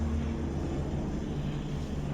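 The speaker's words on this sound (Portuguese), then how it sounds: "Tá passando um avião aqui, pessoal." An airplane passes overhead, a steady low droning rumble with tonal engine hum filling the short stretch, continuous and fairly loud with no talk.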